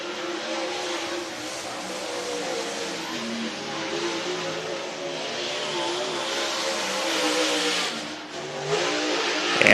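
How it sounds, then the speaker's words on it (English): Race cars at the 31st Annual Fall Classic at Whynot Motorsports Park roar on the gas, a loud sustained engine drone that builds and swells toward the end, with no talk. "Lynn Irwin, the 27, at South Haven, Mississippi, on the gas."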